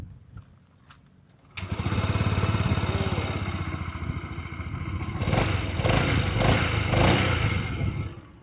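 A new Honda Giorno Plus 125cc scooter starts up after a few faint clicks, its engine catching and settling into a steady, fairly quiet idle close by, with a few brief knocks and rattles near the end.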